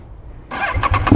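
A KTM 790 Duke motorcycle engine starts after a brief silence, the starter catching into a few throaty pulses that settle toward idle, loud and close.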